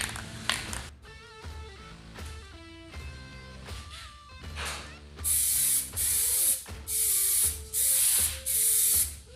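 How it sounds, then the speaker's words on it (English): Aerosol spray can applying a light first coat of Plasti Dip to a car wheel, heard as four loud, steady bursts of hissing spray, each about a second long, following quieter clicking and handling noises. "shake this can and spray on the first coat"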